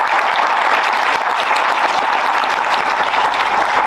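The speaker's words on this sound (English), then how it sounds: "Big round of applause." Audience at an annual HR conclave panel breaks into steady applause, a dense wash of clapping that holds at an even level throughout without any talk.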